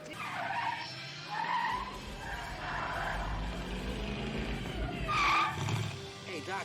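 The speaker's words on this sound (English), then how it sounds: "the car is going to go off the road" A car skids off the road in a Back to the Future movie scene, tires screeching and engine roaring over music, with a horse whinny and louder bursts midway, voices faintly present.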